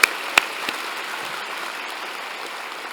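Graduating students at a University of Toronto convocation ceremony clap, with a couple of sharp claps up front followed by soft, sustained, distant applause filling the hall.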